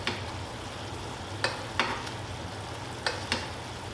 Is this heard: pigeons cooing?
no